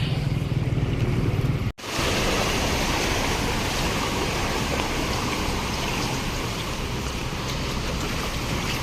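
Loud, steady rushing of water during heavy rain, waves and surf washing continuously over rocks, with a brief dropout near the start and no voices.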